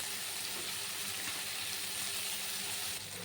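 Tomatoes and ginger frying in a pan for mutton keema curry, a steady close sizzle with a faint bubbling crackle that holds evenly throughout with no talk.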